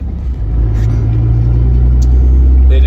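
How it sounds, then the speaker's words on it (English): A pickup truck pulls away with a loud, close, low engine rumble that builds in the first half-second and then holds steady, with a few faint knocks and clicks over it. "Well, I just got back in the truck,"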